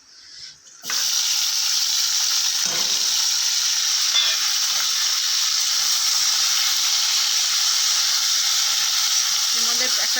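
Vegetables hit hot oil in a karai and erupt into a loud, continuous close-up sizzle that stays steady and bright, with a few faint clanks of stirring.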